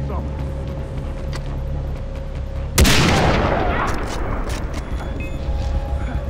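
A single loud gunshot blast in the video game Far Cry 3 cuts sharply through a low background hum midway, then rings out in a decaying rumble.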